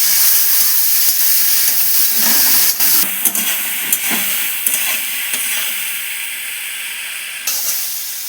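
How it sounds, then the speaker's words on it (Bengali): Prawns frying in hot oil in a kadai, a continuous bright sizzle with crackles and spatters, with occasional stirring clatters over the steady hiss. "এবার চিংড়ি মাছটা ভেজে নেব।"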